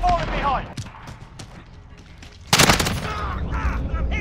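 Gunfire in the video game Hardhat Remake 2020: a sharp burst of rapid shots in the second half, with a faint earlier shot or two, mixed with voices talking over it.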